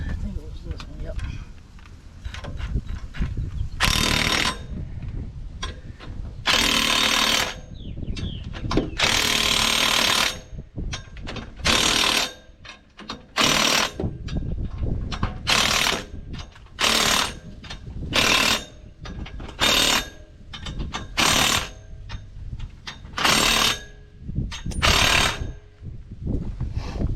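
Tools work on the bolts of an excavator track being changed from rubber to steel, giving repeated loud bursts of ratcheting and hammering in a stop-start rhythm, with people talking between the bursts.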